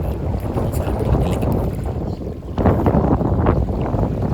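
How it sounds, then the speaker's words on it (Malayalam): Strong morning wind on a Saudi Arabian fishing shore buffets the microphone in loud, rumbling gusts, with a churning, watery roar underneath. "രാവിലെ ഭയങ്കര കാറ്റാണ്"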